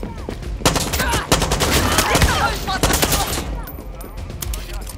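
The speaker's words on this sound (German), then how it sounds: "Boah, ich mag das mit dem Schalldämpfer schießen nicht." A rapid series of muffled, suppressed gunshots from the video game Far Cry 6, sharp thuds in quick bursts, with some clicks and clatter between them.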